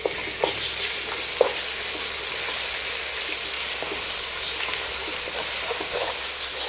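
Sliced onions and ginger paste fry in an oiled pan for a chicken masala curry, giving a steady, close sizzle with a few soft stirring clicks and scrapes.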